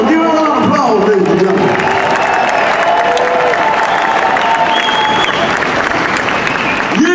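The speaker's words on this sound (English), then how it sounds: "Give a round of applause, ladies and" A crowd at the Chicago Blues Festival at Pritzker Pavilion claps and cheers loudly and steadily throughout, with voices and faint whoops mixed into the applause.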